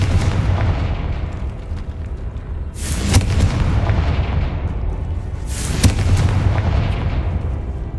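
Two heavy explosive spell blasts boom out in a Harry Potter video game, a few seconds apart, each a loud burst over a constant rumbling background.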